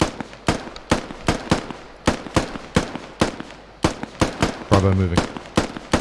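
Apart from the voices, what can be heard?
gunfire during a squad live-fire drill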